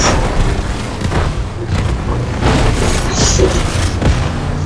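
Rocket launcher fire in Fortnite during a car chase: loud, continuous booming blasts and thuds form a dense, heavy barrage from start to finish, with no clear speech.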